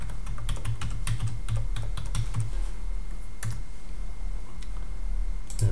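Fingers type a search phrase on a computer keyboard in quick clicking bursts, then pause with only a few isolated keystrokes; close and crisp, with no talking.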